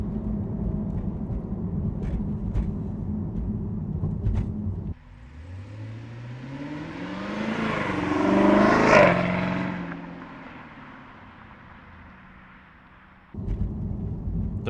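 A flood-damaged Camaro ZL1 rolls at about 30 mph and brakes: steady road and cabin rumble gives way to a rising then falling engine and tire swell that fades out before the rumble returns.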